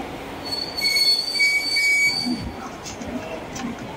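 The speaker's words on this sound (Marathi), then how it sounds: "प्लेटफॉर्म क्रमांक 6 पर आई हुई लोकल 10:46 की मुंबई छत्रपति शिवाजी महाराज टर्मिनस जाने वाली तेज लोकल है." A fast Mumbai local train bound for Chhatrapati Shivaji Maharaj Terminus pulling into platform 6, its wheels letting out high sustained squeals over a rolling rumble that rises and then eases, with faint voices in the background.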